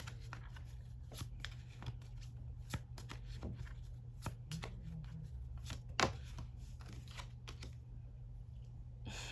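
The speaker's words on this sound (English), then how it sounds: "All right, let's pull some cards." Tarot cards are shuffled and pulled by hand, with soft close riffles and sharp little card snaps at irregular intervals over a low steady hum.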